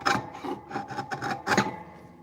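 A big, fat chisel pares through poplar while a wooden mallet is being made from scrap, giving repeated close, rasping scrapes in short bursts of loud woody shearing.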